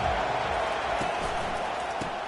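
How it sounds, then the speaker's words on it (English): A stadium crowd in a college football video game, a broad sustained roar of cheering and noise that holds steady throughout. "And this crowd coming to life here, trying to help the defense get a stop."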